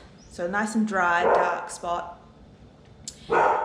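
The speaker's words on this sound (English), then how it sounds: "Excuse the dog." A household dog barks indoors, a few sharp yaps cutting through a person talking close by.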